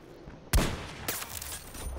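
A sniper rifle shot in Battlefield 2042 cracks out loud and sharp, followed half a second later by a second, softer report, with a low rumbling tail.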